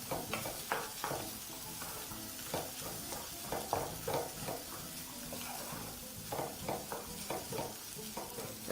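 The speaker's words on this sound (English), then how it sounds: "now at low heat proceed to mix everything while still on the stove top" Sweet corn and other ingredients are mixed in a pan on a stovetop over low heat, giving repeated soft scraping strokes over a faint, hissing background.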